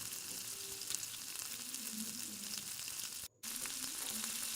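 Prawns fry gently in a pan over a low flame, giving a soft, continuous sizzle and crackle, steady and close with a brief dropout near the end.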